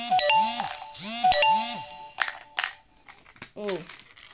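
A phone notification ringtone plays a short, bright two-note melodic chime twice in close succession, loud and near, followed by a few clicks and a brief voice-like sound at the end.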